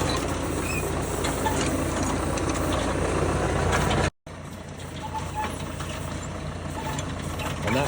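A John Deere Spapperi hydraulic weeder works a cauliflower field, its hydraulically driven rotors spinning under a steady, loud tractor engine drone that runs throughout with a brief break midway.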